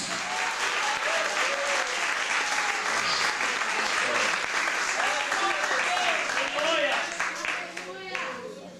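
A church congregation claps loudly and continuously during a sermon, with voices calling out underneath the dense applause before it begins to fade at the end.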